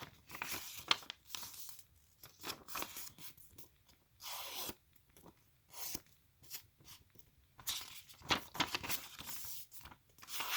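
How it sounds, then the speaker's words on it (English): A sheet of square origami paper is ripped in half by hand, with repeated close tearing and crinkling bursts separated by short pauses. "So I'll rip it in half."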